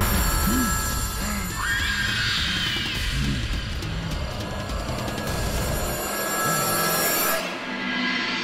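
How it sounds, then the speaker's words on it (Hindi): A telephone rings continuously throughout, a steady buzzing ring with dense, noisy background texture. There is no speech alongside it. "त्रिश कब से फोन कर रहा हूँ यार, फोन बंद करके बैठी हुई हो"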